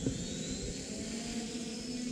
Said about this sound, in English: So the drone is taking off to the initial altitude of 5 meters.